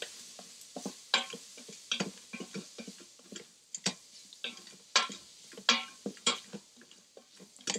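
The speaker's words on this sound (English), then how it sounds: "Give it a good mix." Vegetables and spices, including hot chili powder, are stirred in a pot for kitchari, giving irregular scraping clacks and taps of a utensil against the pot, close and clear with a faint sizzle beneath and no talk.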